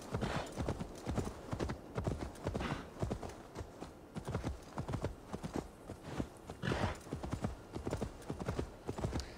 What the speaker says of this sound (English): This one's a bit uphill, so the horse is slowing down.